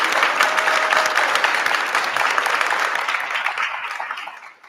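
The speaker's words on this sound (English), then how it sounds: "let's give Cruz a round of applause." Guests at a senior honors dinner applaud an honoree, a loud, full round of clapping from a roomful of people that holds steady, then fades out over the last second.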